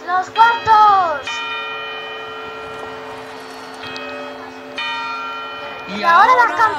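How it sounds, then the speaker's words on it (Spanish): Church bells ringing before New Year's midnight, a sustained resonant tone with clear harmonic chimes struck at intervals, loud and close, voices cheering and speaking at the start and end. "Y ahora las campanadas."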